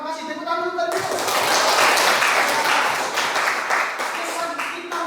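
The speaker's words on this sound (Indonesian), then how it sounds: "Tepuk tangan dulu." A group claps in a classroom session after a teacher's request, a dense burst of many hands starting about a second in after a brief tonal sound, holding steady and close before thinning slightly at the end.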